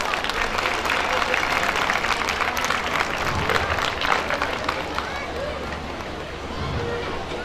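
An audience at a school annual day celebration gives a big round of applause for award-winning students, dense continuous clapping from a large crowd with faint background chatter.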